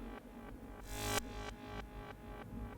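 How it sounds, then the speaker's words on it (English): Quiet psytrance passage where a noisy sweep rises in a short swell over evenly spaced kick and bass pulses, then drops back as the beat continues. "You can hear it kind of fading up and becoming louder."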